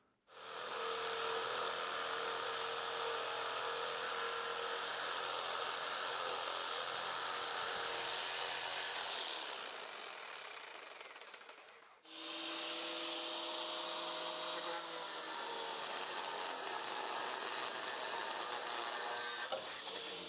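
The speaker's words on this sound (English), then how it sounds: "we have a sawzall on our hands, so let's hope we can access it and cut it really easily" A sawzall cuts through a rusty exhaust header bolt on a Corolla with a loud, steady buzzing rasp. It dips briefly as the blade eases off, then resumes at full power close by.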